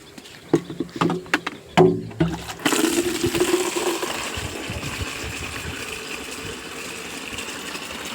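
Water gushes steadily from the tap of a water tanker set under a neem tree outdoors, a continuous rushing flow that starts after a few knocks and clanks and carries on alone.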